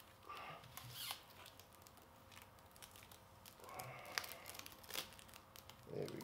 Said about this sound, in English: I'm peeling these together for your sensation.